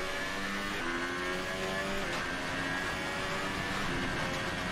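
Race car engine in F1 2018 launching off the start onto the front straight at Monza, a steady high-pitched whine rising through the gears, loud and continuous with gear-shift steps.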